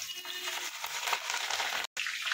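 Ingredients hit hot oil in a home kitchen pan while making homemade oil with fenugreek, a continuous crackling sizzle that holds steady, broken by a brief gap near the end.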